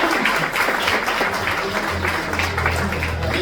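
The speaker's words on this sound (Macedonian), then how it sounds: "Аплаузи за Мија." Applause for a young girl karate competitor at a Macedonian karate awards event, a steady close burst of many hands clapping continuously with no speech over it.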